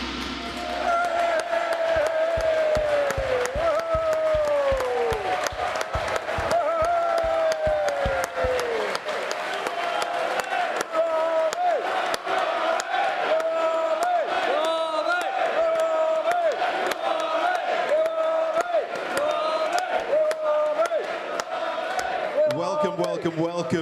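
A capacity crowd in a sports arena cheers and roars at a Christmas special event, a sustained loud mass of voices, whoops and clapping with shouts rising over the din throughout.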